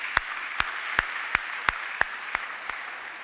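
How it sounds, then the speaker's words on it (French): Clapping rings out during a Sunday church service: about eight crisp, evenly spaced claps in a steady beat, fairly close and alone over a quiet room. "Acclamons-les pour nous."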